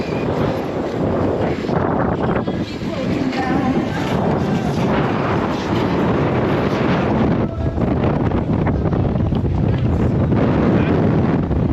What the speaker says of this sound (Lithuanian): Vėjukas tai toks nevaikiškas, jo.